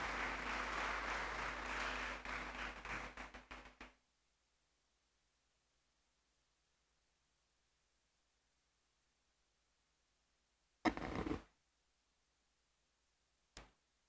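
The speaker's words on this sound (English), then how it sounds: "Please, may I ask you to clap again as she comes to the podium." Applause from a university alumni lecture audience fills the first four seconds, dense and steady before stopping abruptly; after a long silence two short bursts of clapping or handling noise follow.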